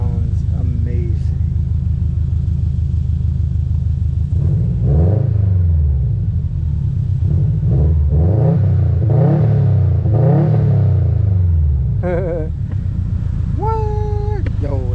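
A boosted Subaru engine rumbles and revs up and down in repeated rising-falling sweeps, loud and close, with excited voices talking over it.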